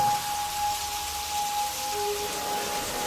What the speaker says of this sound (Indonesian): Hujan mulai mengguyur saat itu.